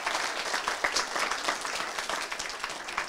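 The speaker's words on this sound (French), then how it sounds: "On peut applaudir notre frère." A congregation applauds a brother during a church baptism service, a broad, even patter of many hands clapping, moderately distant and fairly quiet, steady throughout with no speech on top.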